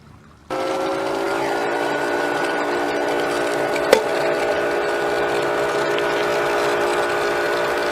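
A Hayward S200 sand filter pool pump kicks on in the filter setting after a brief quiet start, then runs as a steady, close motor hum and whir with one sharp click partway through.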